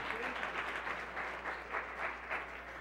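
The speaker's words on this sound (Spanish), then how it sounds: "Dale ese aplauso a su gloria." A church congregation applauds together, a brief burst of moderately distant, steady clapping with little else heard.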